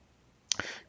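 Two quick, sharp clicks in close succession, like a mouse button pressed twice, followed by a brief soft rustle in a quiet room.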